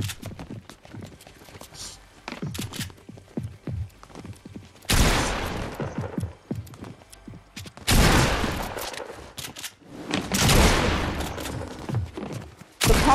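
Pump shotgun and striker shotgun firing in a Fortnite-style video game, several heavy booming blasts spaced a few seconds apart amid quicker clattering shots and game sounds.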